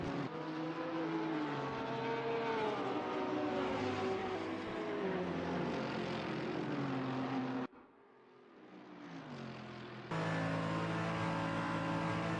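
Race cars roar around Bathurst in a GT racing video game, engines droning loud and steady with shifting pitch as the pack passes, a brief dip near the end before the full engine noise returns.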